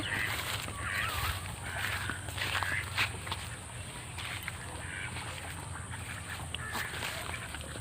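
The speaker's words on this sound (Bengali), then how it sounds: "ওই দেখো হাঁস চলো যাচ্ছি" Ducks quack intermittently at some distance over a soft outdoor background, with faint footsteps or water movement nearby.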